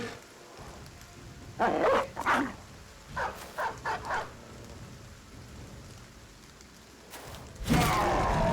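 A dog barking in the Battle Brothers game: loud, separate barks in a few clusters, two early, then a quicker run of four, and a last burst near the end, set over a steady rain-like hiss with no talking.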